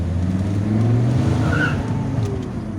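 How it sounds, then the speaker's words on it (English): An Alfa Romeo revs hard as its wheels spin, a loud, close, sustained engine drone with a brief tire squeal rising partway through, and no voices. "Well, even without this disabled, you can spin the wheels."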